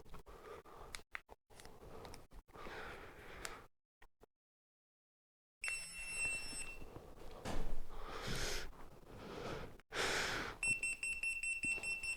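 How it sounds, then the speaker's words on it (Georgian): Electronic alarm tones sound in short steady beeps over rustling handling noise, cutting out briefly before returning louder near the end. "განგაში სიგნალი ეგრევე"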